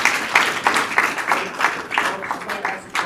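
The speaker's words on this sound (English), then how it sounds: "Please refrain from the clapping and the outbursts between." An audience claps at a Garden Ridge city Board of Adjustment meeting, a sustained patter of many hands in an indoor room, moderately loud, with some voices mixed in.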